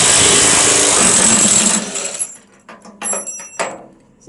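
Socket on a powered driver backing out a bolt on a 1996 Peterbilt truck: a loud, close, rattling burst for about two seconds, then quieter metallic clinks and knocks.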